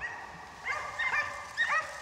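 Hunting dogs bark and yelp at a wild boar during a hunt, with several sharp barks clustered near the end over a quiet outdoor background.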